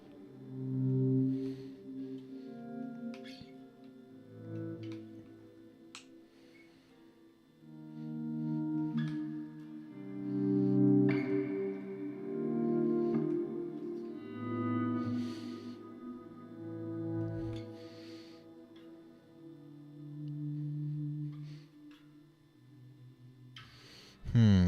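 Guitar run through ambient pedals, topped with an Astronomer reverb, rings out in sustained, layered notes with long washy tails. Phrases swell and fade one after another, with a sudden sharp burst at the very end.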